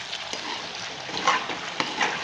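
Potato pieces frying in oil in a kadhai for an aloo fry, a soft continuous sizzle with occasional light stirring clicks, close and fairly quiet with no talking.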